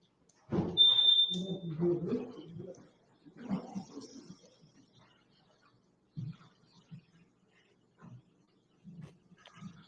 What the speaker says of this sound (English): detectors beeping in the background.